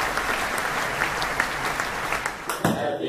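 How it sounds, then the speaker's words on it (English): Audience applause from a crowd at a village gathering in Goa, a steady wash of clapping filling the whole clip at moderate distance, with a few brighter claps near the end. "So an applause should go to him."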